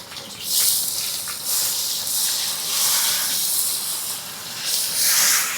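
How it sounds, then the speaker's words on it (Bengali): Green chillies and onions sizzle in hot oil with bay leaf, dried chilli, cumin and five-spice, a loud, close, continuous hiss that rises in surges as the pieces hit the pan, with no talking. "এবার দিয়ে দেবো কাঁচা লঙ্কা আর দেবো পেঁয়াজ"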